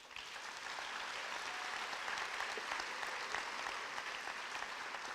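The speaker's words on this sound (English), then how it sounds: "Please join me in giving them a round of applause." Sustained audience applause at an adult education graduation ceremony, a full, even wash of many people clapping from start to finish, steady and moderately loud.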